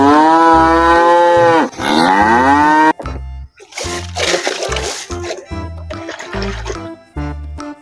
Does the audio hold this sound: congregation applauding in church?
no